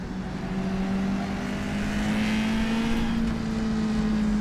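An old-school IMSA race car engine in rFactor 2 drones steadily and loudly at a constant pitch, a sustained in-car engine note with no talking over it.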